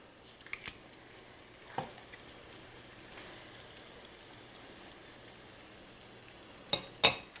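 Zucchini fritters fry in hot oil in a pan with a quiet, steady hiss, punctuated by a few sharp spatula clinks at the start and close.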